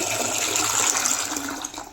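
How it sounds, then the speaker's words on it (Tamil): Water pours in a steady, bright gushing stream into rava dosa batter for a couple of seconds, tapering off slightly at the end. "தண்ணி ஊற்றிக்கலாம்"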